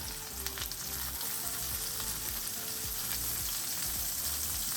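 Zucchini fries in a pan with a steady, close, continuous sizzle and crackle, no voices over it.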